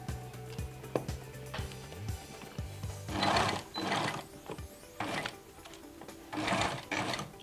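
A sewing machine stitching a notched shirt collar, running in short bursts with mechanical whirring and clicks, stopping and starting at moderate volume.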